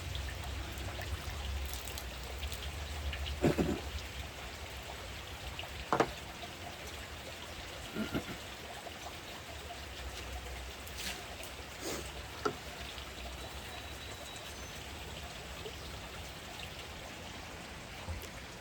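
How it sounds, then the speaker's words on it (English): Steady rain patters and trickles throughout beside a new swimming pool, with scattered louder drips and occasional knocks, no voices. "I'm not going to go out in the rain today with you."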